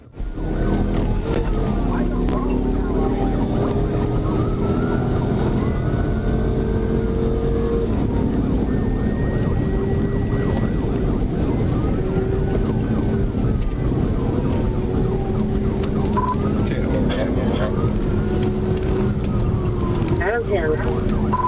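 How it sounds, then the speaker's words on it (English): Police car sirens wail in rising and falling sweeps during a high-speed pursuit over a steady rumble of engine and road noise, loud and sustained throughout. "When emergency lights and sirens were activated, Mitchell accelerated to more than 100 miles"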